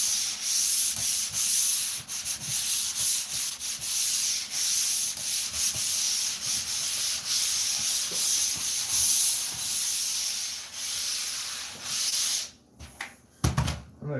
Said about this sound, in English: So now a quick sand to level everything out.